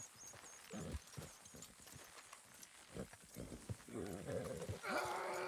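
Horses clip-clop in the Western video game Red Dead, scattered hoofbeats at moderate distance mixed with game ambience, with a few voice-like sounds and a tonal burst near the end.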